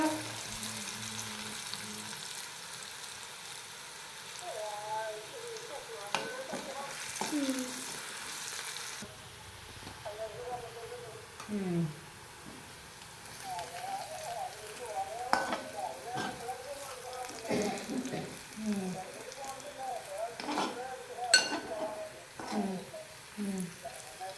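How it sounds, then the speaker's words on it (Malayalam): A salted onion mixture for chutney sizzles in a pan, with a quiet steady fry broken by repeated scraping stirs, and a voice talking intermittently throughout. "ഉപ്പിട്ടിട്ട് ഇതാക്കണം, നമ്മൾ ഇളക്കിക്കൊണ്ടിരിക്കുക."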